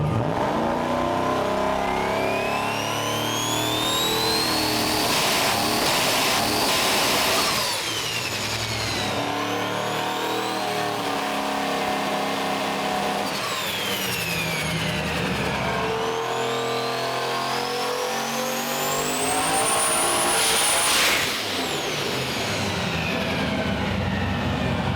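A turbocharged Chevrolet S10 truck with a built engine runs on a dyno. It revs hard in repeated long pulls, with rising whine and turbo sweeps between loud sustained roars, close and with no talk.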